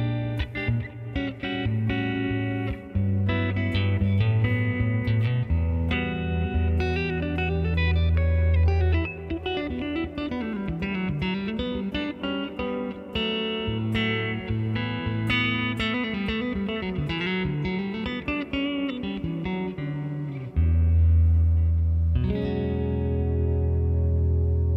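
An electric guitar runs through the NeuralDSP Rabea plugin on its HB Fat Clean preset, with reverb and delay mixed low. It plays clean, chiming chords and picked notes that ring out under a slight shimmer of effects, with no talking.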